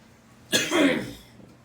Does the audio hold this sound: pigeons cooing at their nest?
no